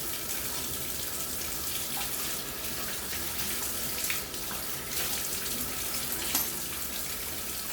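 Water runs steadily from a Moen bath and shower tub faucet fitted with a new 1222 cartridge, a continuous broadband hiss with small splashes and no talk over it.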